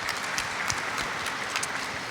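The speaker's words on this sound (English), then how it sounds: "that's an applause break." Applause from a summit audience at a women and criminal justice event, a brief, even wash of clapping at moderate level with no voices over it.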